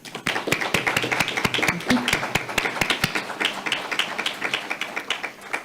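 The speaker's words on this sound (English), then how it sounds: "if we could just get a final round of applause" A modest round of applause at a board meeting: fairly few people clapping, individual claps distinct and evenly paced, steady throughout at moderate loudness.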